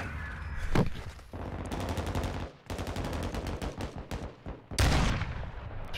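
Gunfire at a shooting range in the Modern Warfare 2 video game: rapid automatic bursts with sharp, evenly spaced shots, punctuated by heavier single blasts and brief pauses, loud and close.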